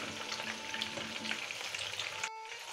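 Cauliflower frying in masala in a pan gives a dense, steady close sizzle with faint stirring, then cuts off abruptly near the end, leaving a quieter hum.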